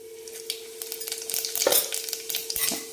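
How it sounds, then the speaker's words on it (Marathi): Mustard seeds and cumin crackle in hot oil in a pan, sharp irregular pops and sizzles over a steady tonal hum, with occasional clinks of a utensil. "तेल गरम झाल्यानंतर थोडीशी मोहरी टाकते। मोहरी छान फुलली की लगेच ह्याच्यामध्ये आपण जिरे टाकणार आहे"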